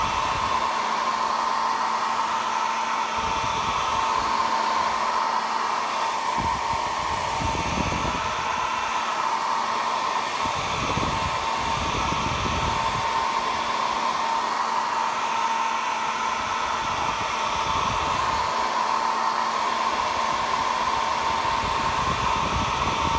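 A hair dryer blows steadily on wet paint on a Valentine's craft project, a loud, constant whooshing drone close by, with brief dips in its hum as the dryer is moved around.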